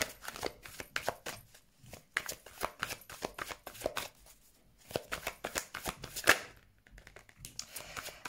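Tarot cards are shuffled by hand in a quiet room, with rapid crisp riffling bursts and soft slaps repeating in uneven clusters, close up and fairly faint, with no speech.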